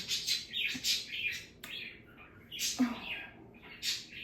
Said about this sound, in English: sorry for the bird.